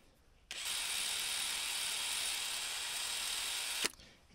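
A drill spinning a wire wheel scrubs rust off bolts from a 1978 Ford 555 backhoe, a steady, close, high-pitched whirring grind that starts abruptly, runs about three seconds and cuts off sharply.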